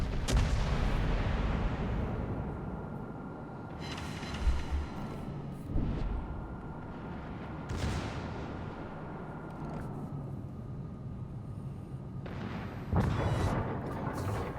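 A heavy cruiser (Atago/Takao class) fires main-gun salvos in the naval game World of Warships: deep booming shots, the loudest near the start and again around thirteen seconds, over a steady rumble of engine and sea.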